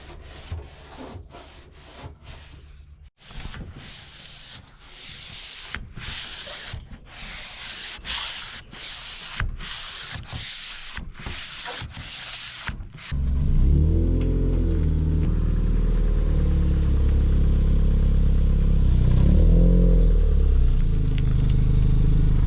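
Sanding of bodywork filler on a custom Toyota MR2 hood: rapid rasping strokes up close, then a power grinder kicks in with a loud steady whine for the rest of the stretch.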